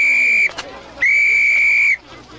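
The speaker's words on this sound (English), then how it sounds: "Oh, that ain't a police whistle. It's a sporting whistle." A sporting whistle blown hard in two long shrill blasts, one short and one sustained, loud and close, with a brief rustle between them.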